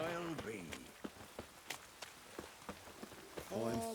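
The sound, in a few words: rain falling in a video game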